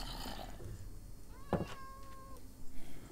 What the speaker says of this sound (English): Lots and lots of cats, though.